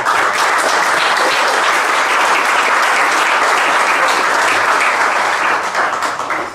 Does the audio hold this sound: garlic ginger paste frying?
no